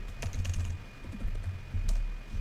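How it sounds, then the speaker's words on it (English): Rapid typing on a computer keyboard while scripting in Roblox Studio, a close, quick irregular run of soft key clicks. "And we're gonna type"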